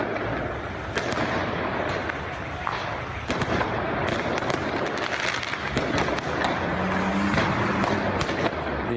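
Fireworks burst at a refugee camp during a clash between migrants and far-right groups, with sharp cracks and pops scattered irregularly over a noisy crowd backdrop, some loud and near, others further off.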